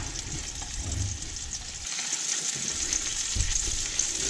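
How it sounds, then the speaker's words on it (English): Trout sizzling and crackling steadily in butter in a hot skillet, a constant hiss with small pops, close by and without voices. "the fish will just kind of sizzle away in butter"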